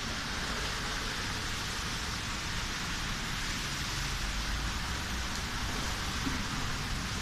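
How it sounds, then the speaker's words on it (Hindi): Heavy rain in Al-Baha, Bur Dubai, makes a dense, steady hiss and patter, loud and unbroken from start to end, with no voices over it. "ज़बरदस्त तेज़ बारिश हो रही है"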